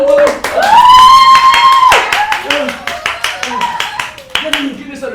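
Theatre audience applauding during a live monologue performance: a burst of scattered hand claps beneath loud voices and cheering, then continuing as steady clapping under ongoing talk.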